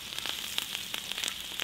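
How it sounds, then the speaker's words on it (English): Potatoes shallow-fry in hot oil in a pan over a woodstove at a bushcraft camp in a tipi shelter, giving a steady sizzle dotted with sharp pops and crackles, close up, with no talk. "We're basically just shallow frying potatoes for breakfast."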